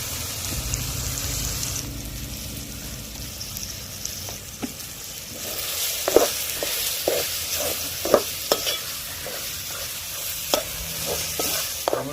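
Chicken curry seasoned with salt and chili powder sizzles steadily in a pan, with a string of clinks and scrapes from stirring that grow more frequent partway through; no one speaks.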